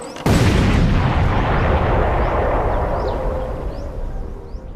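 A landmine is blown up in a controlled demolition, a single loud, sudden blast followed by a long rumbling roar that slowly fades over several seconds.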